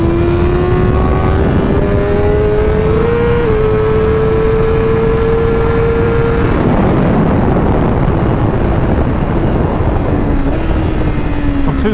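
A 2023 BMW S1000RR superbike ridden on a race track: a loud, close engine note that climbs steadily in pitch through the gears, then drops into a rough, blustery wash of wind and engine before rising again near the end.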